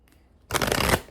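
A short, close burst of tarot cards being shuffled lasts about half a second and then stops.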